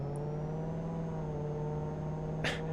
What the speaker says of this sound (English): Revs up to red line on 3000 RPM, obviously being a diesel engine.